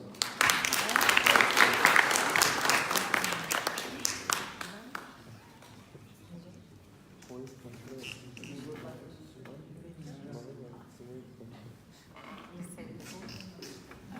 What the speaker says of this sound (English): we welcome him on stage by the applause